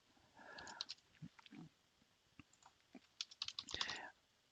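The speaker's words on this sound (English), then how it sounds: "I'll just quickly type one in here" Keystrokes on a computer keyboard as a signature is typed in: scattered, irregular clicks in short bursts, soft and close, with no talking.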